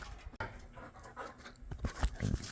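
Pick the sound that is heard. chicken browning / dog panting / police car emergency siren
dog panting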